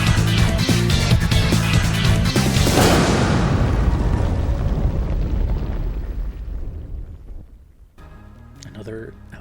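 A big liquid-sounding explosion from video game battle music, a loud booming burst that swells, then decays over several seconds into quieter rumble before faint music returns near the end.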